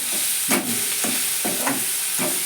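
Broad beans (chikkudukaya) fry in a hot pan with a constant close sizzle, broken by regular stirring scrapes about every half second; no one speaks.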